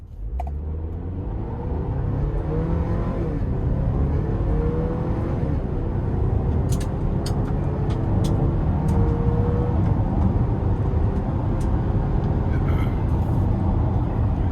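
A 2026 Buick Enclave Preferred, heard from inside the cabin, accelerates moderately up to speed with a steady engine hum rising in pitch over road rumble, with no talking.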